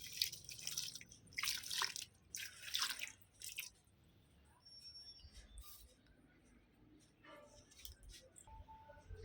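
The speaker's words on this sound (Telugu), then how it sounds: "ఇలాగా ఈ వాటర్ని అందించేద్దాం" Nutrient-enriched water is poured onto dry soil in a potted plant, giving a few short bursts of splashing and dripping early on, then a quieter trickle and faint drips.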